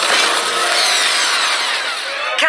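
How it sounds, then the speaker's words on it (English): A loud, harsh cartoon drill boring through thick ice grinds continuously, a dense high whine that holds steady before cutting off abruptly at the end. "The drill can't take it. We're not giving up yet. Send more heat to the drill."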